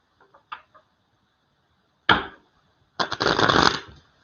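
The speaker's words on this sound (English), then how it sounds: "Put this down so you can see me shuffling" A few soft taps, then a sharp card riffle, followed by a longer, rustling shuffle of a deck close by.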